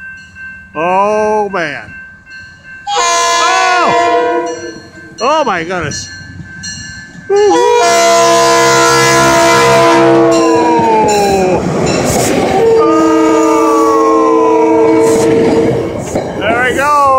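A Metro North train passes a railroad crossing in Bethel, Connecticut, blasting repeated loud horn calls, then roaring close by with rumbling wheels and sustained horn tones while a person exclaims excitedly over it.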